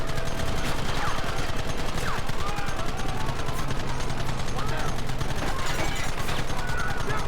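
Gunfire in the western video game Red Dead Redemption: a continuous, dense barrage of overlapping shots in a loud firefight, steady and unbroken, with voices faintly mixed in.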